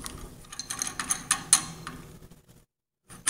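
A folding outfeed table support on a table saw clicks like a ratchet as it is raised and lowered, a run of sharp metallic ticks close up, followed by a brief silence and then one more click.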